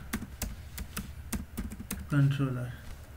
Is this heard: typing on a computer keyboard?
yes